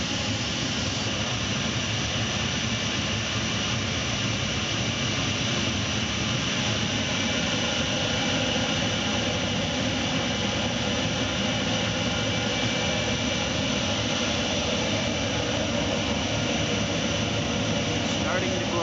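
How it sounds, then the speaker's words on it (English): Preheater blowers on a Dover Soltec DeltaMax machine with the three bottom preheaters switched on, giving a loud, steady, unbroken rushing roar that holds at an even level from start to finish. "Hopefully you can hear the blowers going."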